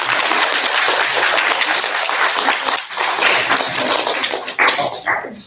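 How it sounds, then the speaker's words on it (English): An audience at a Year 6 leavers' assembly claps continuously and loudly, a dense crowd applause filling the whole stretch, with a few voices mixed in. "Give Olivia a clap"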